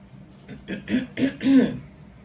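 A few short, rough coughs or throat-clearing bursts in quick succession, close and moderately loud, with no speech.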